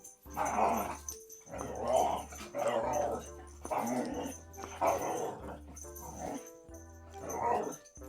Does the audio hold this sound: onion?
no